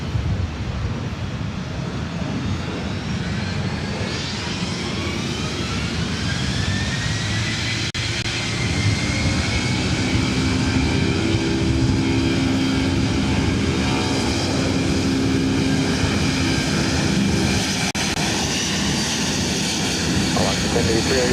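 A Delta Boeing 757-200 jet takes off at LAX, its engine roar rising and holding steady for a long stretch at moderate distance, with tower radio talk heard over it.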